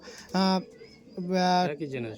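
Chatial pigeons from Kolkata give two drawn-out, throaty coos close by, separated by a short pause, in a quiet indoor loft setting.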